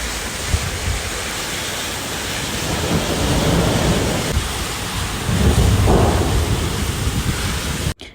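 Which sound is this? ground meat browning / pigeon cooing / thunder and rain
thunder and rain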